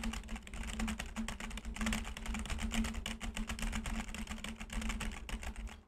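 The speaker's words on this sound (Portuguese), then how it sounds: "Vamos fazer o teste do teclado aqui," Keys rattle in a fast, steady stream of clicks on a computer keyboard during a test of a desk-mounted condenser microphone, close and continuous with no talking.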